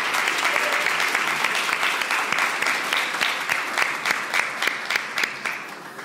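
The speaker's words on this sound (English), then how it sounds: "Please give a round of applause for this wonderful innovation." An audience at a medical school awards ceremony claps steadily for several seconds, a dense, even patter of many hands with no talking over it.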